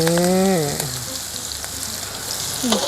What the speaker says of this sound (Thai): เริ่มได้เสียงชูชาชูชาแล้วนะครับ